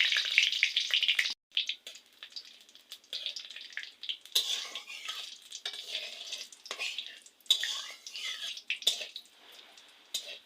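Cumin seeds, bay leaves and dried red chilies sizzle and crackle steadily in hot oil, a loud, bright frying hiss broken by short pauses and stirring scrapes, with no one talking.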